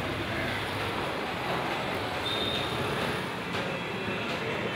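A train rumbles past steadily, giving a continuous, fairly loud roar of wheels on track with no break and no voices.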